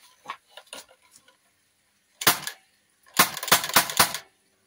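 An L85-A2 4.5mm CO2 air rifle firing, giving two clusters of sharp, close cracks with quick rattling repeats, separated by near silence, preceded by small faint mechanical clicks.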